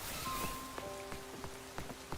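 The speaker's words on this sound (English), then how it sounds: "It's also raining right now." Rain falls in a Pokémon video game as a soft, quiet hiss with light patters, laid under tonal game music notes.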